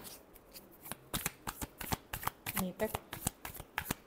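Tarot cards being shuffled by hand, a rapid series of crisp riffling slaps and flicks, close and clear, while someone talks over them.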